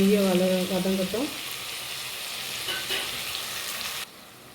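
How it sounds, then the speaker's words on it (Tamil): Tomatoes sizzle and fry in a pan for Chettinad mutton biryani, a steady close crackle that softens near the end, with a brief tonal sound at the start. "தக்காளி நல்லா வதங்கட்டும்."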